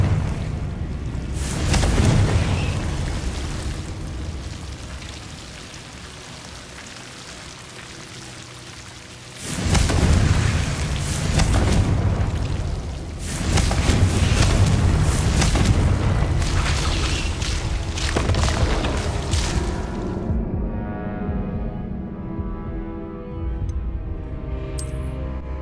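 Repeated Confringo blasting-spell explosions in Hogwarts Legacy, a series of loud, broad booming bursts with rumbling tails and quieter gaps between them, fading to near silence at the very end.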